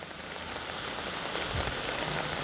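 Steady, dense rain patters onto garden flower plants and an apple tree, a continuous close hiss of drops with no talking.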